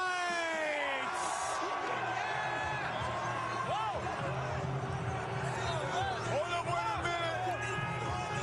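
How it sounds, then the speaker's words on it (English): Parade crowd at the Philadelphia Eagles celebration cheering and whooping in a sustained roar, with steady noise throughout and scattered shouts rising above it. "The crowd goes crazy."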